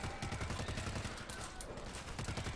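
Dense rapid gunfire from World War Z in a New York level, a steady fusillade of shots running throughout, fairly faint and without talk.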